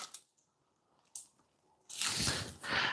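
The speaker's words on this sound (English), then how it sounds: "We're gonna press it to remove the water." Salted cabbage is pressed by hand to squeeze out water for sauerkraut, with a few soft squishes early on, then loud wet squelching and crunching bursts close up toward the end.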